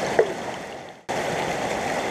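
Water runs steadily through a gold sluice set in a slow stream, a continuous close gurgling rush that drops out briefly midway and then resumes at the same level.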